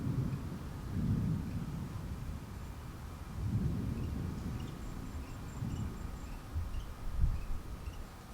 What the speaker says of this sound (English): Yeah, so there's a storm